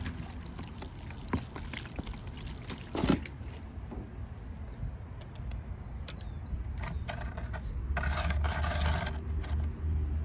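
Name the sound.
water poured onto repotted white pine bonsai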